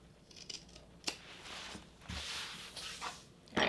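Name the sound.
trimming fabric corners of a tote bag with scissors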